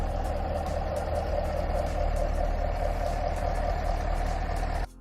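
A 2022 Chevrolet Camaro 2SS V8 idles with a steady, deep low rumble, close and constant for about five seconds before dropping off abruptly at the end, with no talk.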